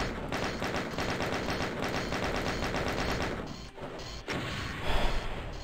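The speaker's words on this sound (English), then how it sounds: "Maybe just do a boring chain gun snipe to save ammo." Rapid chain gun fire in the video game Doom hammers in a fast, loud, even burst for about three seconds, then breaks off into a few scattered impacts and blasts, no talking.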